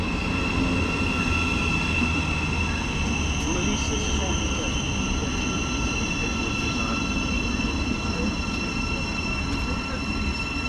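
East Midlands Railway train from Corby pulls into a station platform, a continuous loud rumble of wheels and engine with a steady hum.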